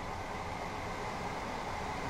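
A passing train in Train Sim World 2 on the Brighton to Eastbourne line, heard as a steady, fairly loud broadband rumble and rail roar that holds evenly throughout with no talk.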